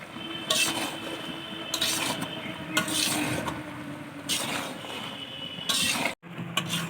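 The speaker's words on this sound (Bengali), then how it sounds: "এখন আমি চেরা কাঁচা লঙ্কাগুলো দিয়ে দেবো আরও কিছুক্ষণ কষিয়ে নেব সবজিগুলো" Mixed vegetables with slit green chillies are stir-fried in a pan for Bengali vegetarian panchan, soft sizzling under repeated scraping and clinking strokes of a spatula, with one brief pause near the end.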